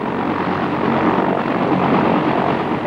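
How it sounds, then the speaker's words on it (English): An attack helicopter flies toward a target area, giving a loud, continuous rotor and engine roar that holds steady throughout with no talk over it. "the initial attack helicopter team heads toward the target area"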